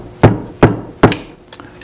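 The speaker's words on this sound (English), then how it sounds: "So we use a part of the tool set we call the head joint cork hammer out of the flute head cork set" A flute head joint cork hammer knocks a cork out of a flute head joint: three sharp, close wooden knocks at a steady pace, then a fainter fourth tap.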